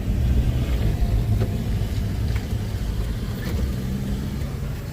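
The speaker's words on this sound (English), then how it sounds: "The Tanzanian trucks." Trucks rolling along a road in Tanzania, a steady loud engine rumble and tire roar passing close without a break, heard from inside or beside traffic.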